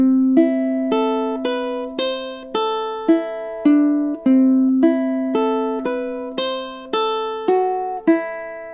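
A plucked low-G ukulele plays a flowing arpeggiated line from Bach's Cello Prelude, each note ringing briefly and decaying in a steady, even rhythm, solo and close.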